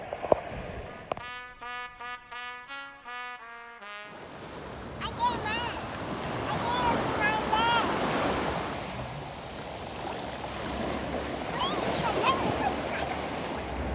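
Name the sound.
ocean waves at the beach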